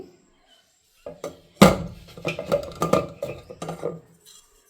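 A plastic mixer grinder jar with a chopping blade is set onto its base and twisted to lock, giving a series of sharp clacks and rattling clicks after a quiet start, close and irregular.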